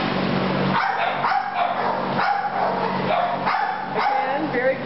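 Dogs bark and yip from the kennels of an animal shelter housing adoptable dogs, sharp repeated barks overlapping in a reverberant room with steady background noise and talk mixed in.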